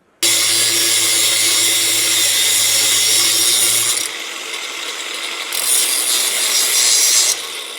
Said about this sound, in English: So I'm gonna get my cut-off wheel. We're gonna cut this off just a little bit.